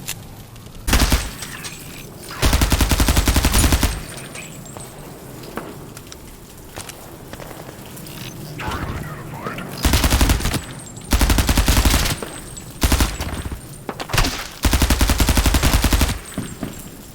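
Automatic gunfire in an indie first-person shooter video game, loud bursts of rapid shots in several separate volleys with quieter gaps of game ambience between them.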